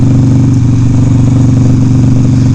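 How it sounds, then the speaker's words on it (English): A Harley-Davidson Sportster motorcycle engine held high against its rev limiter, a loud, steady throbbing roar with a rapid pulsing stutter, close and alone. "just ping the rev limiter there"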